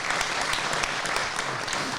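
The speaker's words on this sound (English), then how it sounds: "and I think needs a round of applause." Audience at a live car-show event breaking into a round of applause, dense steady clapping filling the room without a break.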